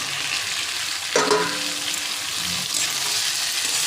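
Soybean curry with quartered tomato sautéing in a pan, a loud continuous sizzle broken by a scrape and clatter of stirring partway through, with no voices.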